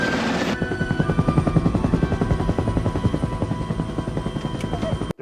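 A helicopter in a scene from the film Star Trek IV: The Voyage Home makes a steady, rapid rotor chop that thumps continuously at close range, preceded by a brief burst of other noise and ending abruptly.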